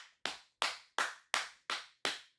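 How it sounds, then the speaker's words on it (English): Six sharp, evenly spaced slaps about a third of a second apart, each crisp and close with a quick decay into silence, presented as buttocks clapping during twerking. "That's my cheeks clapping"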